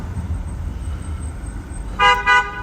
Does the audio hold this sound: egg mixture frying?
no